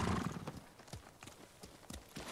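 A horse's hooves clip-clop at a steady walking rhythm in Ghost of Tsushima. The rhythmic knocks are close and moderately loud and play alone, with no speech.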